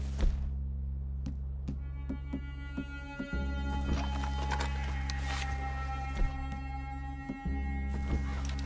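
Horses in the Red Dead Redemption 2 video game, scattered hoof clops and shuffles over a steady low game ambience, with a few sharp clicks and thumps, no clear neigh.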